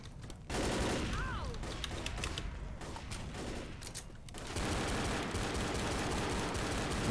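Bursts of gunfire from the video game Left 4 Dead rattle in rapid volleys, fairly faint and dense, continuing almost throughout with a brief lull mid-way, while a player's voice is heard intermittently.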